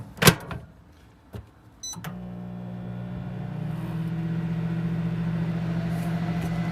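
A microwave oven powered through a 2000W pure sine wave inverter: a few clicks and a beep, then a steady low electrical hum as it starts running, heating a cup of water, with no voices.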